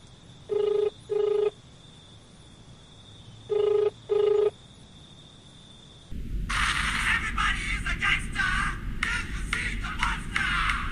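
A telephone rings in two double bursts, each a pair of short electronic trills with a pause between pairs. Louder, dense broadband noise follows afterwards.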